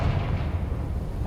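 A Confringo spell blast in the video game Hogwarts Legacy, a dense, booming low rumble that holds steady and loud for about a second, with no voices.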